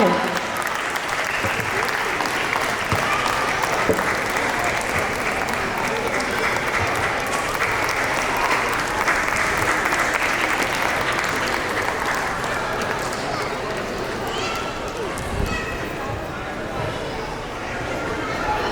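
Parents at a school annual day give a big, sustained round of applause for a grade 1 award winner, dense and loud throughout with crowd chatter underneath, thinning slightly toward the end.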